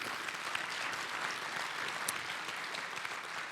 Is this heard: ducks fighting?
no